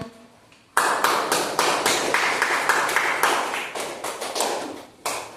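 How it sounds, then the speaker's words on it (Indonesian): A classroom of primary school pupils claps for a group that has just presented, with steady close applause that starts suddenly and goes on for several seconds and then tapers off. "terima kasih kelompoknya Kesia, tepuk tangan."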